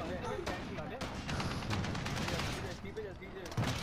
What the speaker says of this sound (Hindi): गोलियां मार रहा है मुझे